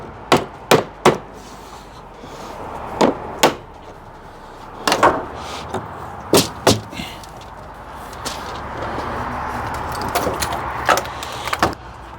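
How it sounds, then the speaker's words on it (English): Scrap wood knocks a fluted wall panel into its groove: a series of sharp, close wooden knocks in irregular clusters, with a low background hum and no talking. "I'm just gonna fit it right in the groove and knock it in."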